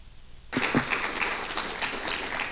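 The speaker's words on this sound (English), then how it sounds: "We've got a lot of people clapping here." Audience applause bursts in abruptly after a quiet moment at a talk on park prescriptions, a moderate wash of many hands clapping that continues steadily to the end.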